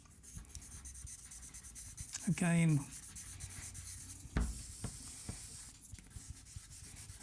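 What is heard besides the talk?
sketching on drawing paper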